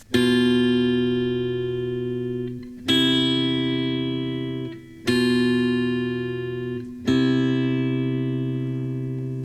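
Sustained guitar notes, four of them in turn, each ringing out for about two seconds with a bright, processed tone and no talking.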